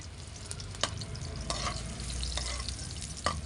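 Garlic and onion sizzle steadily in a pan with repeated stirring scrapes and clinks throughout, close and continuous, as they sauté for adobong kangkong.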